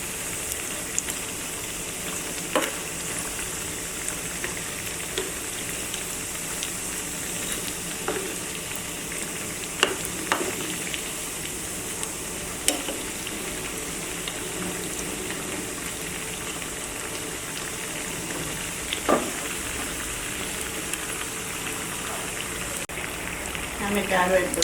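Spicy jhal puli pitha dumplings fry in oil with a faint, even sizzle and occasional small pops and taps running steadily throughout, quiet and unaccompanied by speech.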